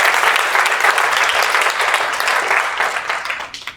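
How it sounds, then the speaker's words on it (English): A live audience gives a round of applause at a sales talk, dense sustained clapping filling the room for several seconds before tapering off near the end, with no voices over it. "Give Ferris a round of applause"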